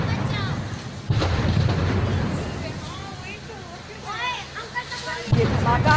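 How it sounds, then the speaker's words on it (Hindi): Gas cylinders exploding during a chemical factory fire in Kasganj, heard as heavy booms and rumbling blasts over crowd babble, with people talking nearby throughout. "इस दौरान आग की वजह से फैक्ट्री में रखे गैस सिलेंडर में धमाके होते रहे।"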